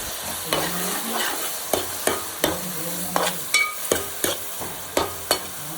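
Ground masala with garlic, poppy seeds and onion for fish curry fries in a pan. A steady sizzle runs under regular sharp scrapes and taps of a spoon stirring, close and clear, without voices.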